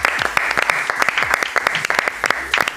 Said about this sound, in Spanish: Pedro García, un aplauso para él, por favor.